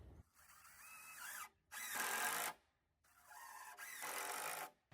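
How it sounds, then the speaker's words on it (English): A power drill drives screws into a cheap homemade wooden workbench in several loud whirring bursts separated by short pauses, with the motor speeding up and biting into the wood. "to keep it from wobbling, I'm going to put 2 screws on this side"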